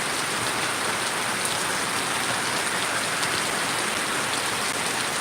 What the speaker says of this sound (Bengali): সেই কাঙ্ক্ষিত বৃষ্টি কিছুক্ষণ আগে শুরু হয়েছে